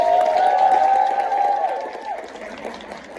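A crowd at a Buriram provincial tourism meeting in Thailand breaks into applause that fades over a few seconds, with a sustained tone ringing over the clapping at first.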